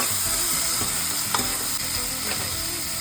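Tomato and onion stirred and fried in a pan while cooking paneer pulao, a steady close sizzle with occasional spoon scrapes and stirring clatters, no talk.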